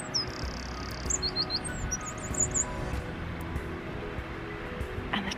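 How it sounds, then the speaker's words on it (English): Tiny birds singing in the morning outdoors, a run of high, quick chirps and trills near the start, then quieter calls over a soft ambient background. "And the tiniest birds have been so loud this morning."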